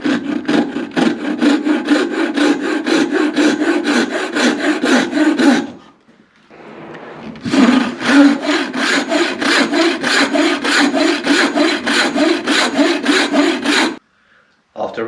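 Hand saw cutting wooden tenon cheeks for sash window rails, loud close rhythmic back-and-forth strokes in a fast steady run, a brief pause with softer scraping, then sawing resumes.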